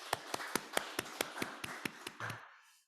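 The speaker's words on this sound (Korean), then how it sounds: "우리 잘 다녀오시라고 박수로 환송하겠습니다" A church congregation at a Sunday Advent service in Darmstadt claps to send off departing members, roughly a dozen evenly spaced, fairly quiet claps before the sound fades.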